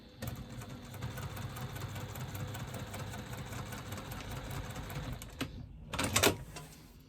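A sewing machine stitches an internal zipper pocket continuously at an even, rapid clatter for several seconds, then stops; a brief rustle and click follow.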